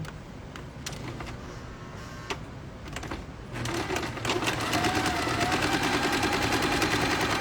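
Sewing machine stitching close along the edge of a zippered pouch, a steady mechanical whirring run that grows louder and denser midway, with a few sharp clicks earlier and no talk.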